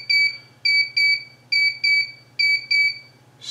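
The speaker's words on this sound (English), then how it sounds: "Now it's going to beep and change to 8." A DIY digital clock kit from eBay gives seven sharp, loud electronic beeps in an uneven pattern of quick pairs and singles during setup, over a low steady hum.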